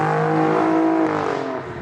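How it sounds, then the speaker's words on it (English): A car with a twin-turbocharged V6 engine accelerates hard, a loud, close engine note climbing steadily in pitch for about two seconds, with no voices. "The performance punch that you do get from that twin turbocharged V6 engine is wild."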